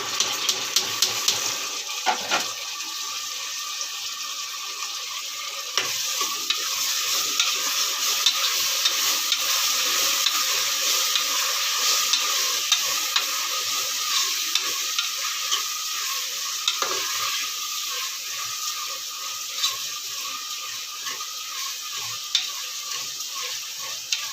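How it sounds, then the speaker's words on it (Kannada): Finely chopped tomatoes fry and sizzle in a pan for oggarane rice while a spoon stirs them, a steady close hiss punctuated by scraping strokes, with no talk. "ನಾಲ್ಕು ಟೊಮೊಟೊ ಸಣ್ಣದಾಗಿ ಕಟ್ ಮಾಡಿರೋಂಥ ನಾಲ್ಕು ಟೊಮೊಟೊ ಹಾಕ್ತವ್ರೆ"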